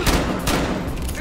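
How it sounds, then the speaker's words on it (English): Gunfire in the video game Battlefield: Hardline, a short loud burst of rapid shots with sharp cracks close by. "where am I getting shot from?"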